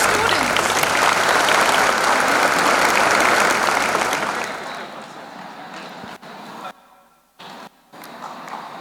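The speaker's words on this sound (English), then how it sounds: "I'm expecting a thunder of claps for Mrs. Ranjita Gunjar." Loud, dense applause from the audience at an annual recognition ceremony, a rush of many hands clapping that fades out after about five seconds, followed by quieter room sound and a voice.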